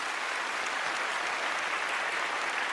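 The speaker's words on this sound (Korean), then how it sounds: "다시 한번 큰 박수 부탁드리도록 하겠습니다" Steady applause from a seminar audience fills the space evenly and continuously, a dense wash of many hands with no voices over it.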